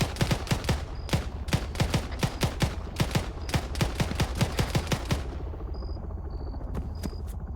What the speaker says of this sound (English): I hear gunfire coming from southwest